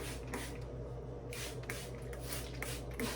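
A spray bottle mists an apple cider vinegar mixture onto hair in several quick close hissing bursts, each a short breathy spurt with small gaps between.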